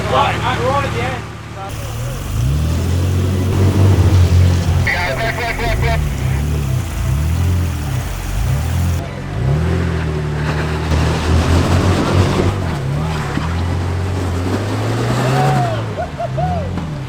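A Nissan Patrol 4WD engine labours up a steep switchback track, its note rising and falling in repeated surges as it strains for grip, loud and close, with voices talking over it.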